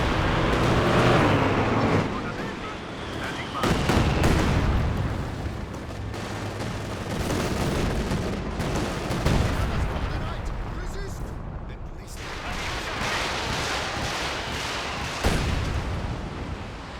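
Artillery barrage and gunfire, including a Katyusha rocket counter-barrage, in a Company of Heroes 2 2v2 battle with tanks: a dense, continuous roar of blasts and rumbling bursts that runs throughout, under a commentator's talk.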